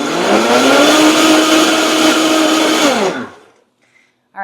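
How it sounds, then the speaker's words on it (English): A kitchen blender mixing batter whirs loudly for about three seconds, a high buzzing motor that winds down and stops, followed by near silence and a brief clink. "one more quick run through the blender"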